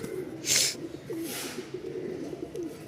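A pair of pigeons cooing softly and repeatedly at close range, low throaty calls in a steady rhythm, with a couple of brief rustling or fluttering bursts.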